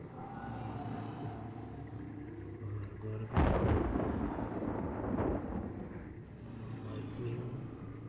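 In a video game, a rolling thunderclap from lightning bursts out over a low background rumble, then fades slowly.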